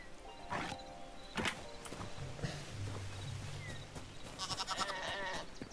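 Sheep bleat in the video game Hytale, giving a few short, fairly faint calls over a steady outdoor game ambience, with soft clopping steps and no talking.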